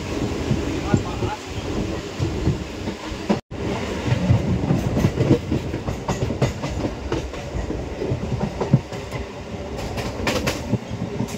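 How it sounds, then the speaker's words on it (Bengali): A train pulls out of Jasidih station and rolls along the tracks through the Jharkhand plateau, giving a steady, loud rumble with clickety-clack wheel beats. Brief muffled voices can be heard under the noise. "ট্রেন তার নির্ধারিত সময়ে ছেড়ে দিল জসিডি স্টেশনের প্ল্যাটফর্ম"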